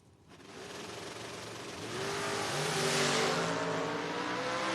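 A Firebird and a creamsicle-colored Oldsmobile Roadster launch at a drag race, a loud, rising roar of engines that swells after a brief quiet start and holds strong for several seconds, heard from a distance.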